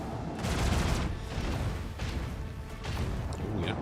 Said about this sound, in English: Nice torpedoes